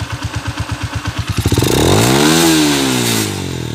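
A motorcycle engine with its rev limiter removed, loud and close: rapid sputtering idle pulses build into a sustained high rev that climbs, peaks and settles into a steady roar.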